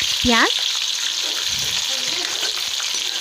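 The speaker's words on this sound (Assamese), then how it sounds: "পিঁয়াজ দি মেলি লৰাই লৰাই ভাজিব লাগিব।" Onions fry in hot mustard oil in a wok, giving a loud, steady, close sizzle throughout, with a short squeaky rising tone at the start.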